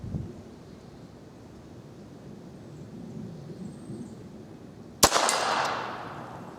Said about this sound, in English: So let's see how the Model 41 will do with the subsonic small game hollow point.